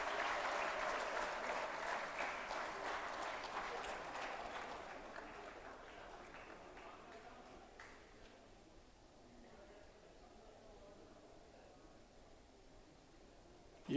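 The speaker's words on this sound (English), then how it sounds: "Huge round of applause for Mr. Singh." Seminar audience applause fills the room, dense and steady at first, then thinning and fading to a faint patter before a sharp sound at the very end.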